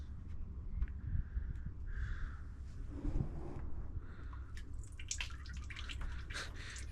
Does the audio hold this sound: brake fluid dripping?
yes